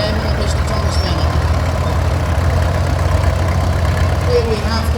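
A Caterpillar tractor engine runs steadily at a steam rally, a loud continuous low rumble with faint higher mechanical tones throughout, with voices audible in the background.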